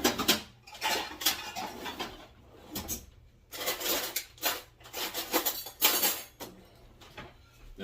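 Metal spoon and utensils clatter and scrape against a pot of keto clam chowder on the stove, coming in irregular bursts of clinks and rubbing, close and moderately loud, with no talking.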